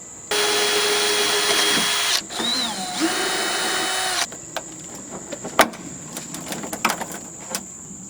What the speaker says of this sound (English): remove this gutter piece. It seems to be held together with two Phillips head screws.